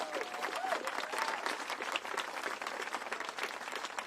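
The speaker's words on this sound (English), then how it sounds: "Give them a big round of applause." Crowd applause at a Tim Kaine campaign organizing event in Erie, Pennsylvania, a continuous patter of many hands at moderate distance, with a brief whistle early on.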